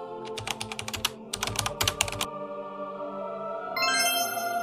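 Typing on a computer keyboard: quick bursts of close, crisp key clicks in two clusters, then a pause filled with a soft electronic tone.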